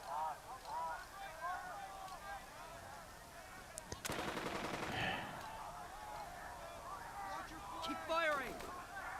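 Machine gun fire rattles in a long burst midway through a World War II Sicily beach battle in the video game Burden of Command, set amid chattering battlefield noise with scattered shots before and after.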